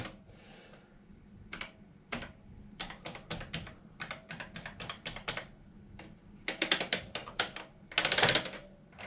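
Fingers type on the Plus 3 keyboard of a Sinclair Spectrum +2A computer, a close run of crisp key clicks in irregular bursts, quiet at first and growing denser and louder toward the end.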